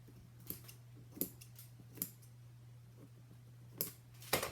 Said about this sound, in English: just snip it just like you do a dress